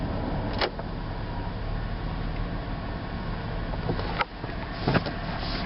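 A Chevrolet Suburban engine idles steadily in the background, a continuous low rumble with a few brief knocks and rattles nearby, no talking.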